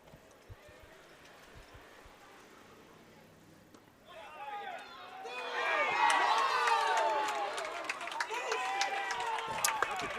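Crowd at a high school baseball game between First Presbyterian Day and Stratford Academy erupts into loud cheering and whistling after the game-ending pitch, swelling from a quiet murmur to a sustained roar.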